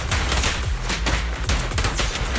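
Rapid bursts of gunfire from the video game Zenless Zone Zero, a dense, loud fusillade of overlapping shots with heavy low-end thumps, continuous throughout with no talk.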